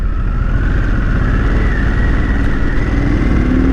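A 2021 Harley-Davidson Sportster S engine in sport mode drones steadily and loudly close by, a continuous motorcycle rumble with a faint rising tone throughout and no talking.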